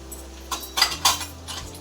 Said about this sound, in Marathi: आता आपण 2 चमच मसाला टाकूया आपला आगरी पद्धतीचा